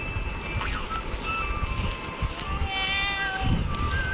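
A pet cat meows repeatedly in drawn-out, rising and falling cries over a noisy indoor background, fairly close, with no talk over it.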